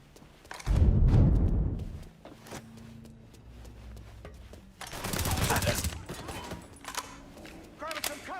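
Bursts of gunfire ring out during a Mafia 3 firefight, with a loud volley near the start and another rapid burst midway, amid shouted character dialogue and game sounds.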